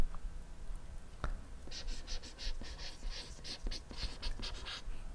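A marker scratches across a board in a string of short, quick strokes, faint and close, with a single tap before the writing starts and no one speaking.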